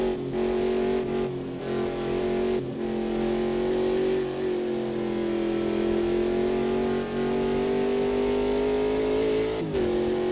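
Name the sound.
racing car engine at full throttle in Automobilista 2 video game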